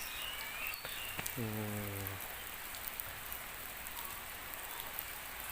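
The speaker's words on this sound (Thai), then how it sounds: "ปล่อยไม่ได้ครับ มันมันฝนตก" Steady rain patters outdoors at an elephant calf's pen, a continuous soft hiss with no talk, and a brief low mechanical hum rises partway through.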